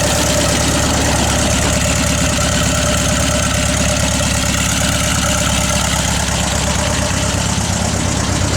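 A 1955 Volkswagen Beetle engine idles steadily for the whole stretch, a close, continuous mid-pitched running sound with a fine rapid pulse and no voices over it.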